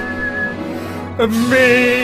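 A person whistles a short, clear tune: a sustained note at first, then a break, followed by rising and wavering whistled tones close to the listener over a low background hum.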